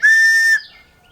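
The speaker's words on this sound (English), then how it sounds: "the other thing is it has a whistle here" A built-in whistle on a Schrade Tactical Survival Pen gives one loud, piercing, steady blast of about half a second, then cuts off into quiet.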